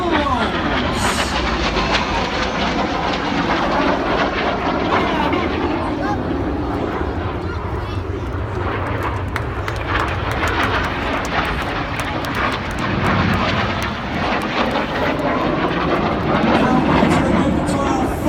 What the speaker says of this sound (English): Each of the pilots now bringing their aircraft up to 400 miles per hour.